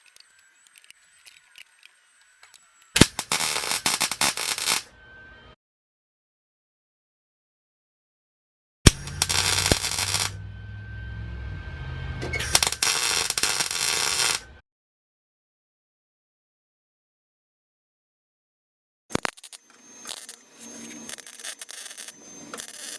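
An angle grinder with a 120-grit flap disc grinds rusty VW Bus floor metal in three harsh, loud bursts of a few seconds each, separated by stretches of near silence.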